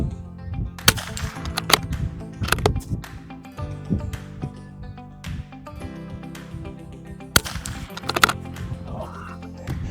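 Sharp rifle shots at a 50-yard target during NRL22 .22 rifle match practice, several loud cracks spaced irregularly over a few seconds with quieter clatter between them.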